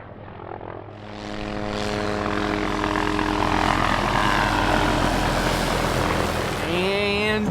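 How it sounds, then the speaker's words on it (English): A helicopter at a hunting camp in New Zealand approaches, its engine and rotor roar swelling from faint to a loud, steady drone over several seconds, with a voice briefly heard near the end. "we heard the helicopter coming right back to us."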